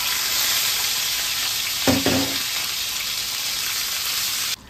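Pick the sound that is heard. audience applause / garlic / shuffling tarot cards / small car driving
garlic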